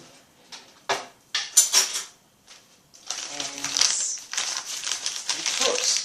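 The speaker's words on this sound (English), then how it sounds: "Teaspoon of coffee in." A metal teaspoon scoops ground coffee into a stocking used as a makeshift percolator, giving close, sharp clinks and scrapes in scattered bursts, then a denser stretch of gritty rustling and tapping.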